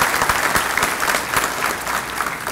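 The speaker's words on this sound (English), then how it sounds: "Reed, I don't think you're here, but let's give Reed Hare applause in his absence." Audience applause at a Rooster Booster business breakfast with a university president speaking, a dense, steady clapping that fills the whole stretch at close, even loudness with no voices over it.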